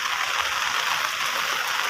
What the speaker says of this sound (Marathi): आज पुन्हा एकदा जोराचा पाऊस चालू झाला आहे